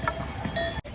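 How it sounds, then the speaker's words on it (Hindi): Horse bells jingle along the trek path from Gaurikund toward Kedarnath, a short bright metallic clatter with faint outdoor ambience that cuts off abruptly near the end. "बेल्स की आवाज़ सुनिए"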